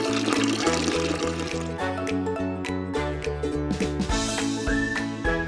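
Tamarind water pours into tomato rasam cooking in a pot, a faint liquid splash and trickle under steady, rhythmic background music.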